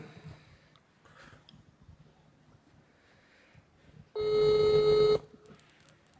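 A telephone call is placed: after a quiet stretch of faint background noise, a loud, steady electronic phone tone sounds for about a second and then stops.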